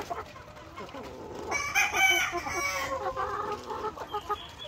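Hens cluck on a poultry farm, a cluster of close, overlapping clucks and calls with a soft voice briefly underneath.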